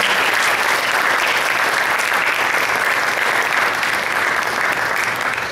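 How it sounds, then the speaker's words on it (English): A large audience at a non-profit careers event breaks into a full, steady round of applause, dense and sustained throughout with no speech over it. "Please give them a big round of applause."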